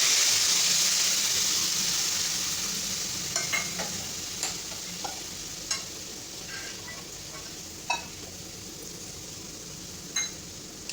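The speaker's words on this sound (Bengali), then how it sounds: "এখন আমি এর মধ্যে দিয়ে দেব 1 বাটি মতো জল" Bitter gourd and potato cooking in a pan as a bowl of water is added, giving a steady broadband sizzle that slowly fades, broken by several sharp clinks and stirring scrapes near at hand, with no voices.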